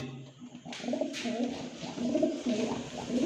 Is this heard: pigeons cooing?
yes